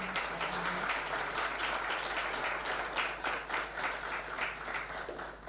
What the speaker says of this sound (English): I think we should clap for all our officers for the achievements